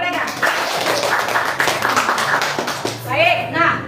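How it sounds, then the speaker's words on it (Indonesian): A classroom claps for students who just presented their group work, a dense patter of hand claps mixed with overlapping voices, ending as talk takes over. "beri tepuk tangan dulu untuk mereka"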